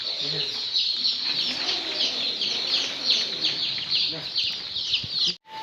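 Many chicks cluck and chirp continuously in a rooftop brooder, a dense chorus of peeping calls with a short clatter near the end.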